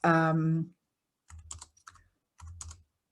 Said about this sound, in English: Sorry, I'm just typing an example.